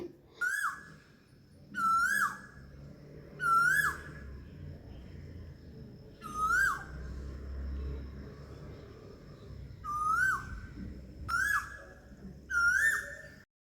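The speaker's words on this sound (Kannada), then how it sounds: "ಕೋಗಿಲೆ ಕೂಗ್ತಾ ಇತ್ತು ಹಾಗಾಗಿ ಅದು ವೀಡಿಯೋ ಮಾಡಿಕೊಂಡೆ" A cuckoo calls on a morning, repeating a clear rising whistled note about every two seconds, fairly near and standing out against a quiet background.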